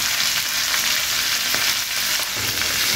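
Vegetables (beans, potato, eggplant and stems) frying in a pan with salt and turmeric, a steady loud sizzle with faint stirring scrapes throughout, no talking.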